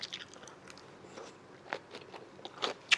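Crisp bites and chews of crunchy cabbage in a Chinese-restaurant seafood dish, a quiet run of wet crunches and sharp snaps that grow louder toward the close, heard very near with no talking.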